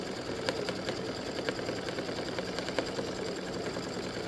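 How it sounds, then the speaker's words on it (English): An embroidery sewing machine stitches felt onto a backing for a tic-tac-toe game board, a fast, steady mechanical whir with a continuous rapid needle clatter, close and alone. "this just stitches the felt to the back and secures it"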